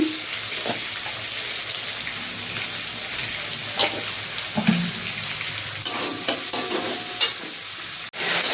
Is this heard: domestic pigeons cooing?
no